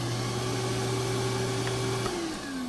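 A Dewalt DWV012 10-gallon HEPA dust extractor vacuum motor drones steadily with a strong hum, then its pitch drops near the end as it winds down.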